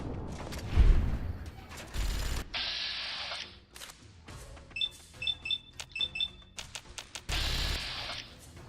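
CZ57 Avenger minigun firing in Fallout New Vegas, with bursts of rapid mechanical fire and booming blasts, interspersed with bright electronic beeps and short clicks, loud and close, with no talking.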